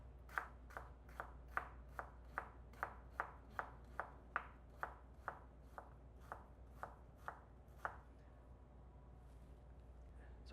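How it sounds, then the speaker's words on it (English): A knife chops an onion on a cutting board in a home kitchen, about twenty crisp, evenly spaced strikes close by, with a low steady hum beneath and no talking. "So we're going to cut the onion."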